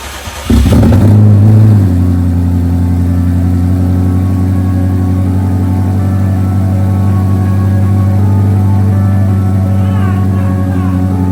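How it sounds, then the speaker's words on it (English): A BMW F90 M5 engine cranks briefly, catches and starts with a loud burst, then settles into a steady, rumbling idle that holds close and strong throughout. "So I don't even know if there's going to be enough power to crank the engine"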